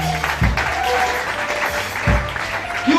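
Congregation applauding for the Holy Spirit during a prophetic church worship service, a continuous dense clapping from a crowd nearby with a few louder thumps and voices underneath.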